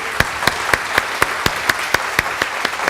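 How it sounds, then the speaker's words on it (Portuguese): Steady rhythmic clapping from a church congregation, beats landing at an even pace of about four per second, loud and close with no talk over it. "vamos dar uma salva de palmas para Jesus"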